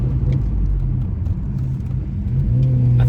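Honda Civic Sport Touring from 2023 fitted with a Borla exhaust, idling and burbling close by with a steady low rumble that swells slightly toward the end.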